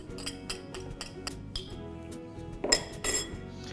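A fork clinks and scrapes against a dish while something is mixed for a roasted pepper chicken dish, making scattered light metallic taps and rattles close by that are fairly quiet, with no speech.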